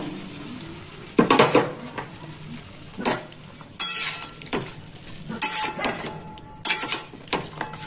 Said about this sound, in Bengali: এবার আমি এর মধ্যে দিয়ে দেবো বেগুন আর ঢেঁড়স। আর এর মধ্যেই দিয়ে দেবো চিংড়ি মাছগুলো।